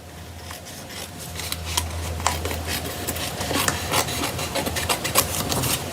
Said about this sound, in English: We're just gonna trim the edges off here.